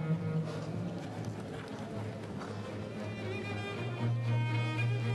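A horse, Ebano (Escamillo x Fiorano), trots in a training arena, its hoofbeats a steady muffled rhythm within a broad, noisy background, with no voices heard.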